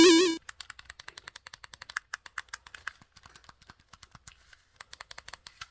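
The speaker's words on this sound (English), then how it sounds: "I don't think the inline shoulder buttons are too terribly clicky. Little loud, but not too bad." Shoulder buttons on an Anbernic RG35xxH budget handheld clicking repeatedly, a close, crisp run of about thirty sharp plastic clicks in an uneven rhythm, fairly loud, following a brief electronic tone at the start.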